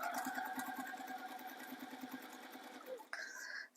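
A sewing machine stitches a seam through a fabric folding bag, running steadily with a fast, even needle rhythm, then stops near the end. A voice is faintly audible.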